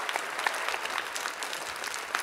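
Studio audience applauding on a Belarusian TV celebrity duet show, a steady dense clatter of many hands clapping for about two seconds with no speech.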